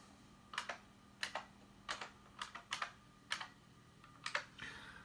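Password keystrokes on a computer keyboard beside a Mac Pro 5,1, arriving in short irregular clusters of close, crisp clicks over a faint steady hum, with no talking.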